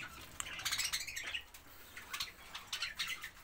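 Caged birds kept at home chirp and squawk in quick, bright bursts, several close calls overlapping irregularly over a faint background.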